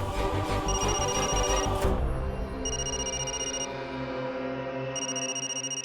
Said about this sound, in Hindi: हरीश बाबू का फोन, मैं क्या जवाब दूंगा उन्हें?